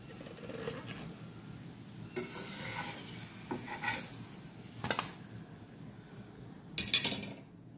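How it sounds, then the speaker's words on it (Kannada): A tawa griddle pan used for cooking mixed vegetable parathas is lifted off the stove, giving a few scattered metallic clanks and scrapes over faint kitchen background, with a sharper clatter near the end. "ಸೊ ಇವಾಗ ಆಗಿದೆ, ನಾನು ತವೆ ತೆಗಿತೇನೆ."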